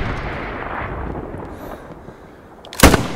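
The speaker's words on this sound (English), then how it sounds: "he just got shot at by a rocket and he missed" A rocket fired at a player in an online shooter game lands as one loud, sharp blast near the end, standing out above a steady rumble of in-game background noise.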